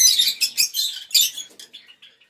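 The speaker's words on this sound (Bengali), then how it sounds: "এই দেখুন পাখি খেতে দিচ্ছে আবার" Small pet bird chirping in quick high twittering bursts while being hand-fed greens, close and fairly loud, fading to softer chirps at the end.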